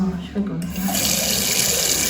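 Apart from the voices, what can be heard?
water running from a touch-free sensor tap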